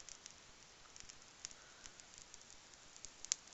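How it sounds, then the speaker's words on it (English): Faint, sparse crackles and pops from a heated tooth, small sharp ticks scattered irregularly over a quiet background hiss, with one brighter snap near the end. "Yeah, it's still crackling away"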